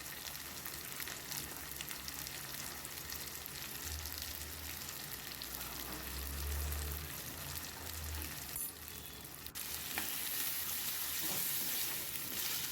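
Tomato and coriander-powder masala fries in oil for a Kerala-style fish podimas, a continuous soft sizzle and bubbling hiss with low rumbling underneath that brightens near the end.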